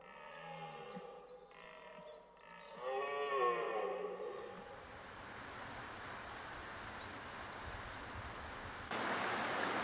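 A herd of cows lows in an alpine pasture some 2000 metres up, several long deep moos overlapping over the first few seconds before the sound fades into steady outdoor ambience.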